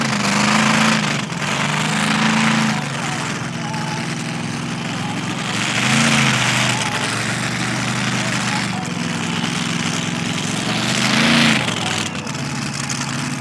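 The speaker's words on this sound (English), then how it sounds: "running a 572 big block with a PSI Model D screw blower" Mud drag racer with a 572 big block and PSI Model D screw blower at the Valemount mud drags, a loud sustained engine roar with surging revs, heard over crowd noise and commentary.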